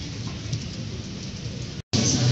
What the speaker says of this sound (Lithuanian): Ir vėl lyja.